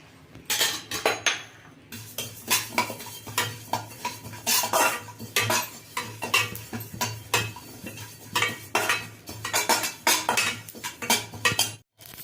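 Cumin seeds tipped into a metal pan and stirred with a spoon, giving a busy run of clinks and scrapes with a steady low hum underneath, close and fairly loud.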